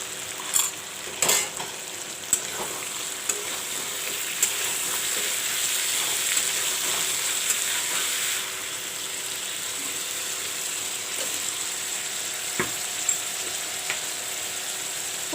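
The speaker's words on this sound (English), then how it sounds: "I will fry the masala with the red pumpkin." Ginger, garlic and masala paste frying with red pumpkin in a pan, a steady close sizzle throughout with scattered clinks and scrapes of a spoon stirring against the pot.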